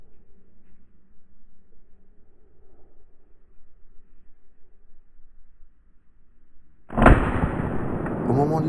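A hunting rifle fires a single shot at a fox during a driven hunt. The sharp, loud crack comes after a long near-silent wait in the countryside, then trails off in a fading rumble of echo.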